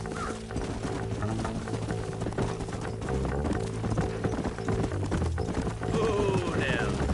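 Horse hooves from the Red Dead Redemption video game clop in a steady galloping rhythm alongside continuous game music, with a brief whinny-like sweep near the end.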